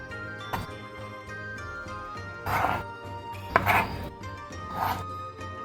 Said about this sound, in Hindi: आधा किलो बोनलेस चिकन को क्यूब्स में काट लेंगे